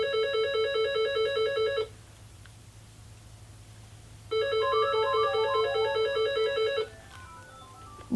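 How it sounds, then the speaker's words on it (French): A telephone rings with two long electronic trilling bursts, each lasting about two seconds, separated by a quiet gap, and a third ring begins faintly at the end. "Bon, le téléphone sonne."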